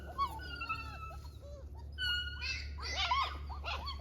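Puppies whimper and whine in thin, high, wavering cries, several overlapping near the end, close by over a low steady rumble outdoors.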